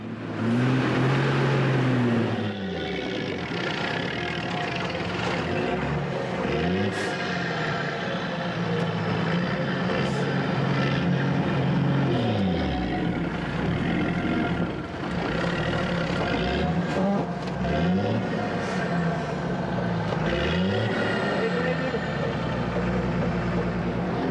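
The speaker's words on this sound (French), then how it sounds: "Les pneus de son camion sont usés et patinent dans la boue." A heavy truck engine roars and strains continuously, revving up and down repeatedly as its worn tires spin in mud on a Himalayan road.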